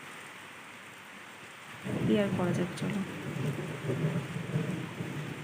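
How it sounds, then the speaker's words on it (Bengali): Heavy rain pours steadily in a rural yard, with a rumble of thunder rolling in near the start; a voice speaks briefly over the downpour. "এই দেখো ঝমঝমিয়ে বৃষ্টি শুরু হয়ে গেছে, দেখেছ?"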